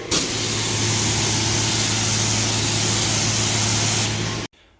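Aerosol lubricant sprays onto the cassette of an old Schwinn bicycle in one long, loud, steady hiss lasting about four seconds, then cutting off abruptly.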